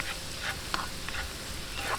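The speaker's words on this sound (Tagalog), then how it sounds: "gisa-gisahin lang natin hanggang mag light brown. Huwag po natin masyadong idadark yung bawang." Garlic sautéing in a pan until light brown, a quiet steady sizzle with a few soft stirring scrapes, close and continuous for a couple of seconds.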